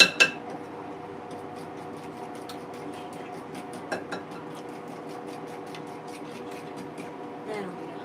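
A whisk rattles rapidly against a cooking pot during Christmas dinner preparation, a steady run of light metallic ticks at close range with a few louder clanks at the start.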